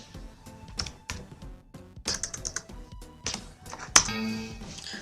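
A number being typed on a computer keyboard, a few close, sharp key taps and clicks in irregular bursts, with one louder press near the end.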